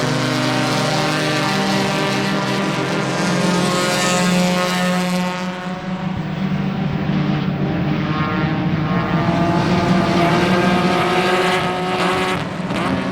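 A tight pack of improved touring race cars roars past at Sebring, engines revving loud and close with overlapping whines that rise and fall as the cars pass.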